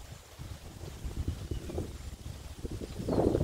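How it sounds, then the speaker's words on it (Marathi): Wind blowing outdoors across green vegetation, a steady buffeting rush against the microphone that swells louder toward the end, with no voices. "सुंदर वारा वाहतो आहे"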